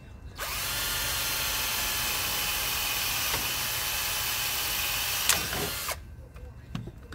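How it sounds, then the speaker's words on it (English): A power drill pre-drilling pilot holes for screws whirs steadily at close range for several seconds, then stops abruptly, followed by a few light clicks and handling noises. "So I'm pre-drilling the holes."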